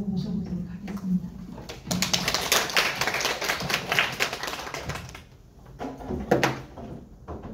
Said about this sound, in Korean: 박수로 모셔보도록 하겠습니다